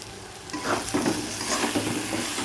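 Cabbage stir-fried in a pan with roasted cumin powder added, a steady close sizzle under scraping stirring strokes of a spatula against the pan, continuous and fairly loud without voices.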